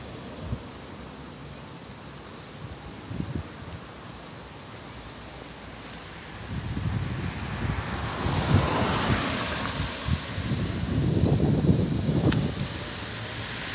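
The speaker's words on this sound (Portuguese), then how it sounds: "Repara, olha só como está ventando bastante." Strong wind gusts channeled between city buildings on a cloudy, cool Sunday in Porto Alegre, roaring as broadband rushing noise that swells and buffets loudly in the second half, with no voices.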